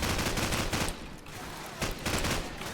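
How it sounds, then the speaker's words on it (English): Rapid bursts of gunfire from the Call of Duty 4 video game, loud and close, with a dense volley, a quieter lull in the middle, then another heavy burst. "Just keep moving and shooting"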